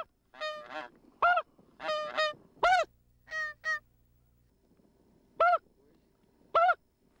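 A single goose flying over the Alaskan tundra near Wainwright, with loud, clear repeated honks in short bursts, some doubled, then spaced single calls, against a quiet open background.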